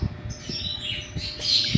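Pet birds kept at home give faint, quick chirps and tweets over a soft background hum, the calls scattered through a short stretch with no voices.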